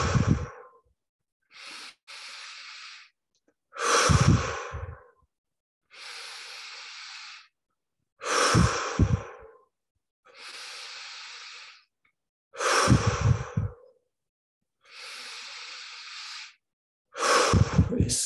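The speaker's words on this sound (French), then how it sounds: "Encore 10 respirations profondes." Slow deep breaths during a guided meditation, long airy inhales and exhales alternating in a calm, even rhythm, close and clear against silence.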